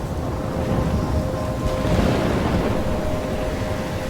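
A stormy scene from the video game Life is Strange: a steady roar of wind and rain with a low rumble of thunder swelling near the two-second mark, continuous and loud throughout.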